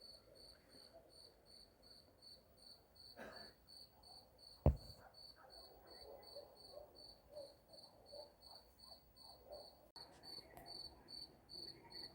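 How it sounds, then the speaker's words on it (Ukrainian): Crickets chirp in a steady, high pulsing rhythm against a quiet night background, with one sharp knock partway through. "Можна спокійно ввечері послухати цвіркунів."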